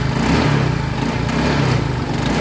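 A Honda Click scooter engine runs steadily during a test after a pulley belt repair, a loud, close, continuous buzzing drone with slight surges and no talk over it.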